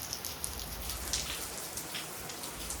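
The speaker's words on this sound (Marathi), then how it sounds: "पाऊस पडतोय" Rain falls outside a house in a steady, even patter of drops hitting surfaces, moderately loud and close, with no voices over it.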